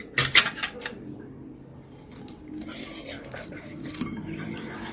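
Plates and dishes clink together at home, with a few sharp close knocks early on followed by softer handling noises, while people talk nearby.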